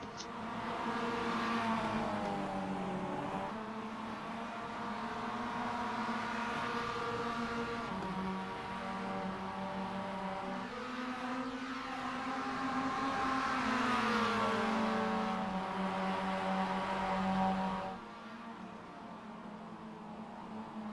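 Roadster race cars howl around a track on lap 4 of a 12-lap feature, engines rising and falling in pitch as they accelerate and pass, a steady loud snarl with layered overlapping motors.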